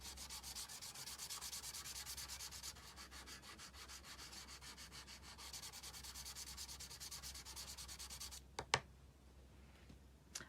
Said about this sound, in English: now what we do is we actually rub this into the cardstock